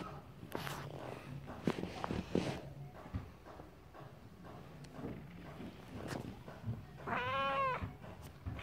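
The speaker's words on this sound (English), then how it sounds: "You just heard him meow." A pet cat gives a single clear meow near the end, after rustling blanket sounds and handling noises close by.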